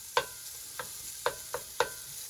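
Cabbage cooks down in a skillet with ham, fat and bacon under a soft sizzle, while a spoon scrapes the pan five times in an uneven rhythm, each scrape short and fairly close.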